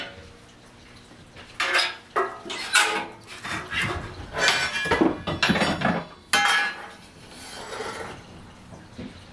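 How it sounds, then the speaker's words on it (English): Ash is scooped out of the bottom of a wood stove with a metal tool, giving a series of close scraping, rasping strokes with clinks against the metal, irregular and spaced by short quiet gaps. "I'm also just scooping out all the remaining ash that's in the bottom of the wood stove"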